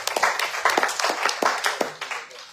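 An audience claps at a high-level networking event, a brief burst of scattered, irregular hand claps, fairly close and clear, with no talk over them.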